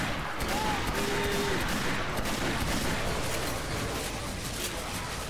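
Gunshots in the co-op zombie shooter Left 4 Dead on Expert Realism, a dense continuous rattle of fire blending into a noisy battle wash at steady loudness.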